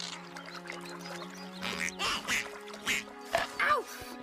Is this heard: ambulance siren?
no